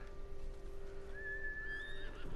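A horse in the video game Ghost of Tsushima gives a clear, rising whinny over a low steady game ambience, fairly quiet overall.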